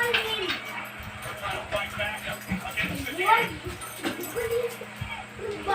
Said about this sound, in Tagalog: yung mga alaga kong aso, tingnan mo, naglalaro sila.